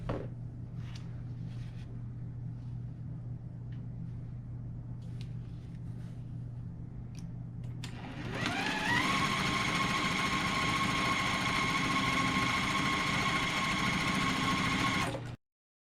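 Quiet room sounds give way to a sewing machine stitching rows of a nine-patch quilt block together, running loud and steady in one long even burst before stopping abruptly.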